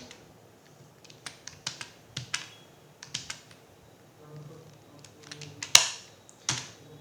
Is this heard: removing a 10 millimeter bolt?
no